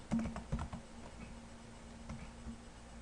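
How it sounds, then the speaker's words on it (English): Keywords are typed on a computer keyboard in a quiet room: a quick run of soft key clicks, a pause, then a few more taps, close and faint. "So for example, you can type why Jesus"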